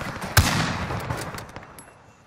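A single loud gunshot in Call of Duty cracks sharply, then rings out as an echoing tail that slowly fades, with faint scattered game noises afterward.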